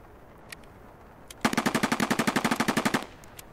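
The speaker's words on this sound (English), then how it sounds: "This AK has taken so much abuse." Rapid burst of automatic AK rifle fire in the video game Escape From Tarkov, about twenty sharp evenly spaced shots in a steady rhythm, loud and close, with quiet game ambience before and after.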